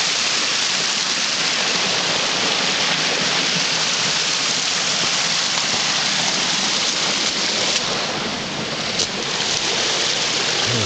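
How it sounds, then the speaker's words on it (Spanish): Small waterfall in a stream bed, a steady, loud, close rushing hiss of falling water that stays constant throughout with no other sounds standing out. "Pequeña cascadita."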